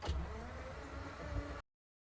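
Diesel tow truck with two-wheel drive being cranked and started, a short loud burst of starter grind and engine catch lasting under two seconds before abruptly cutting to silence, with no talking.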